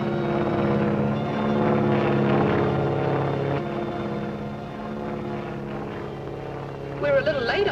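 A 1940s propeller airplane drones overhead in flight, a steady loud engine hum with layered harmonic tones that shifts slightly in pitch, while voices talk over it near the end.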